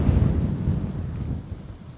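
Wind buffets the microphone on the Danish coast during an e-bike tour, a steady loud low rumble with gusts that ease slightly toward the end, with no voices.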